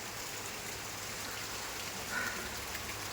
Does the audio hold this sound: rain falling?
yes